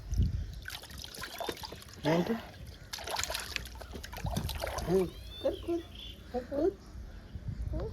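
Water trickles and splashes onto the ground at the base of a tree as people talk nearby, with faint birdsong in the background.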